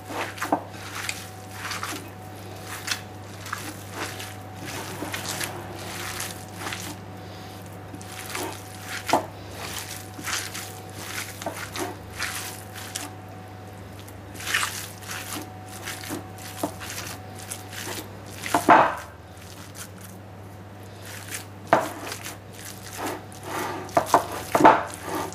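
Bare hands knead and squish sausage meat with onion, salt and pepper in a bowl, soft wet squelches and irregular slaps recurring at close range over a steady low background hum.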